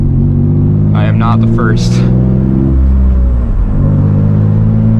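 A stock Nissan 350z on back roads gives a loud, steady engine drone with wind rushing past the cabin. Someone talks at the start over the constant rumble.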